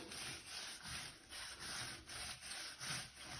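A stiff brush scrubs rust staining from classic Victorian floor tiles in steady back-and-forth strokes, a close, rhythmic rasping with about eight even pulses and no talking.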